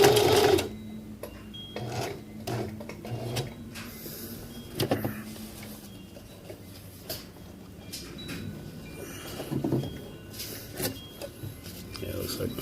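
A home sewing machine jams partway through a back stitch while sewing a PALS/MOLLE webbing accessory pouch, giving close, uneven bursts of motor whir and clatter that stop and restart.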